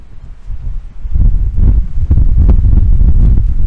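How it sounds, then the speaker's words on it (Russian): Strong wind on the Crimean coast buffets the microphone, a loud roaring rumble that swells after the first second and stays heavy and gusty throughout. "ну здесь и ветер, конечно, сильный."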